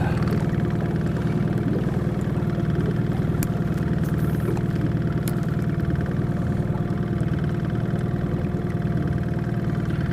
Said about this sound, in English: That motor doesn't bother anything. It doesn't bother the fish.